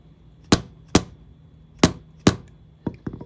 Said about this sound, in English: I put the second bearing underneath it so I can punch this out all the way.